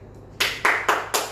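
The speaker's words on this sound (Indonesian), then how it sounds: "Kita bermain tepuk nyamuk" Four sharp hand claps in an even rhythm, close and loud, in a mosquito-clapping counting game played in a classroom.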